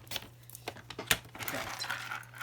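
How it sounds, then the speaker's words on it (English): A paper trimmer cuts a strip of cardstock for a stamped craft layout: small clicks and taps as the trimmer is set, then a soft sliding rasp of the blade, close, over a low steady hum. "Let's bring the trimmer back in. Trim just a little bit of this off"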